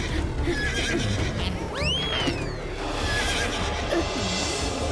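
A horse lets out a loud, quavering whinny, close by, over steady background noise, in a Hindi children's TV show scene. Faint hoof clip-clops and ambient clatter continue around it.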